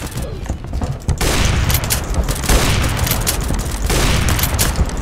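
Sniper rifle gunfire in a Roblox video game comes as a dense, loud, continuous barrage of shots and booms throughout.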